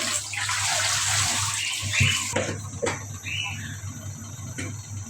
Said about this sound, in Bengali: তো মাছ ধুয়ে নিচ্ছি